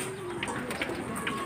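Racing pigeons coo softly at a rooftop loft, a few faint repeated calls over a steady background hiss.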